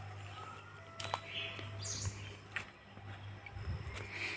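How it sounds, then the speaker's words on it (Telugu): Birds chirp in a quiet forest beside a coffee plantation, a few short faint calls scattered over a low steady hum, with no one speaking. "బర్డ్స్."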